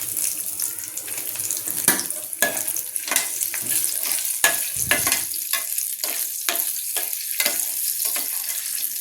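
Tempering seeds and dried red chillies fry in hot oil for a tamarind and yellow cucumber chutney, with a continuous close sizzle and frequent sharp crackles and pops.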